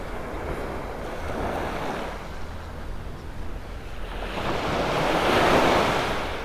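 Ocean waves washing onto a beach in North Naples, Florida on a morning walk, a loud continuous surf roar swelling toward the end, with wind buffeting the microphone.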